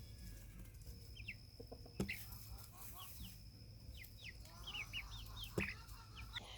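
Soft clucking from several brown chickens in a homestead pen, scattered through the clip, with chirpy bird calls and a steady low background hum outdoors.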